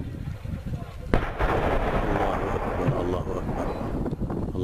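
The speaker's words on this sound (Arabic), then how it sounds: "قصف صاروخ من جبل زي العابدين على مدينة اللطامنة بريف حماة الشمالي والدخان يتصاعد." Rocket shelling from Jabal Zain al-Abidin on the town of Latamneh in northern Hama countryside: a sharp blast followed by a long, heavy rumbling roar, with wind buffeting the microphone.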